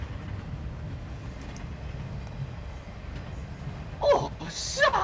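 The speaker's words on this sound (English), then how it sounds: "The train pulls out of the station." Train pulling out of a station, a low, steady rumble of wheels and carriages with two bright hissing bursts near the end, like steam or a whistle.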